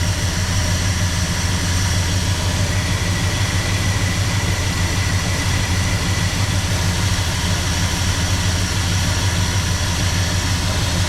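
A 1967 Plymouth Belvedere II engine idling hot at about 760 rpm, a loud, steady, close rumble with a dense low-frequency drone that never varies and no voices over it.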